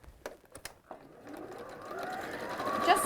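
A sewing machine stitches quilt seams, joining pieces into pairs and then sewing the pairs together; a steady motor hum builds and grows louder over a few seconds, preceded by a few light taps.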